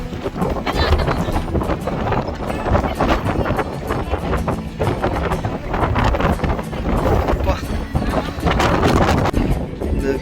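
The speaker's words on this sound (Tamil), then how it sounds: "அந்த அளவு காற்று, சரியான காற்று இருக்குங்க." Strong coastal wind on Vancouver Island roars and gusts constantly against the microphone, a loud, turbulent rush with no letup.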